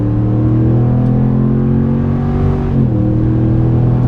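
The 5.7L V8 of a 2017 RAM Sport Night Edition 4x2 pickup drones loudly and steadily from inside the cabin, a deep, even engine hum with a slight pitch dip partway through, no talking.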